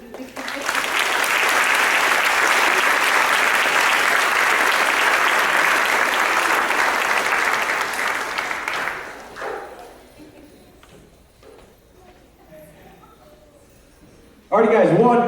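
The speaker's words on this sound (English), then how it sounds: "one more big round of applause for the latest speakers" Guests at a wedding ceremony clap in a loud, dense burst of applause that lasts about eight seconds and then fades, followed by quiet murmuring and then a voice speaking.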